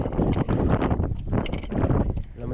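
Strong wind buffets the microphone during a fishing trip, loud rumbling gusts pulsing unevenly with bursts of rustling throughout.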